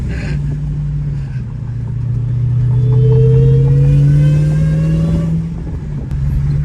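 An 850 WHP Dodge Hellcat-powered 300 engine revving while driving in second gear: deep loud rumble swelling as revs climb over several seconds, then easing back, close and continuous without talking.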